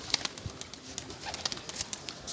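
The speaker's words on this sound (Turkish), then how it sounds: "Bayağı kuş uçuyor sende ha." Pigeons flutter and move nearby, with soft wing claps and scuffling in a quiet outdoor setting.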